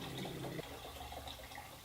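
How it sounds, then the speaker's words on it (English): Water runs faintly into a keg of homebrewed beer wort, a soft pouring gurgle that shifts tone partway through, quiet and close with no talking. "now we gotta fill it with more water."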